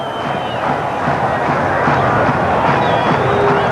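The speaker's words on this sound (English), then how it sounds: "So at last this Olympic Park crowd has come to life." A football stadium crowd at Olympic Park, gathered for a 1985 World Cup qualifier between Australia and Israel, roars in a steady, dense swell of cheering and shouting that fills the whole stretch from start to finish.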